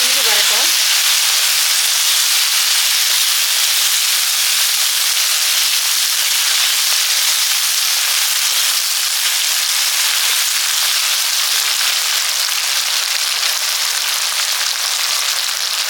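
Chopped tomatoes sizzle and fry in hot oil, a loud, steady hiss that carries on without a break.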